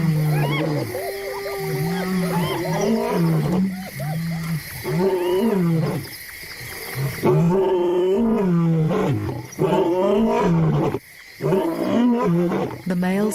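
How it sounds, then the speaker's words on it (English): Male lions roar at night, with a series of deep, drawn-out roars and grunting calls that rise and fall in repeated bouts, loud and close, with brief pauses between them. "The males roar more enthusiastically at night."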